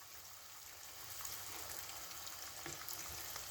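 Aubergine slices sizzle steadily in a frying pan, a continuous soft crackling hiss with no voices, for a pasta bake with onions and potato.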